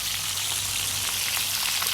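Jack fish head frying in a pan of hot oil for a Jamaican breakfast, a steady close sizzle and crackle like light rain that runs unbroken and fairly quiet, with no voices.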